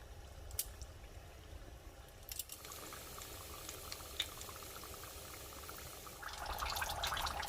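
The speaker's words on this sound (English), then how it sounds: "into the hot oil, there we go" Egg rolls deep frying in hot oil, a steady bubbling crackle with a few sharp pops; the frying swells louder near the end as more rolls go in.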